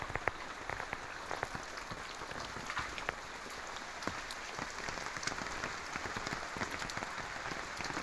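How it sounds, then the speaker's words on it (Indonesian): Steady rain falls over a village, a dense even patter of drops on surfaces, continuous and fairly close with no voices. "Jadi ini suasana hujan di kampung."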